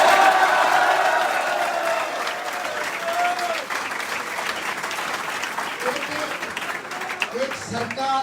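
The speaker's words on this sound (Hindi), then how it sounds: "इसलिए लेनो के लिए ताली बजा।" Audience applause with some cheering at a song launch event in Sonipat, a dense steady clapping crowd that stays loud throughout, with a few whistles or shouts rising above it and no clear speech.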